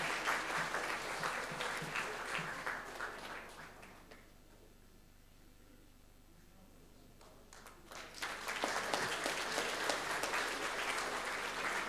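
Audience applause at a theatre and film competition award ceremony, a room of people clapping steadily, fading down to near quiet in the middle before swelling into loud clapping again.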